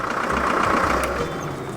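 Car engine idling on a forest road, a steady close rumble with a faint knocking pulse running evenly through the short stretch, no talking over it.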